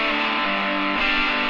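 Electric guitar with a second compressor stacked on it plays continuous gritty, saturated chords at an even, squashed level, close and loud with no voices.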